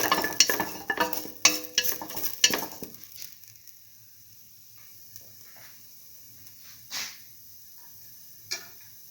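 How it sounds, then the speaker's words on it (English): Food sautéing in a pan while cooking potato and split mung beans produces a burst of sharp clattering stirs and scrapes early on. It then drops to a faint sizzle with a few isolated knocks of the utensil. "keep on sauteing."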